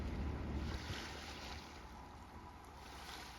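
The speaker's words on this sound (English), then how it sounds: "You can kind of hear the water sloshing around" Water sloshes and laps against a hull amid steady wind and rumble, a continuous washing sound with no voices.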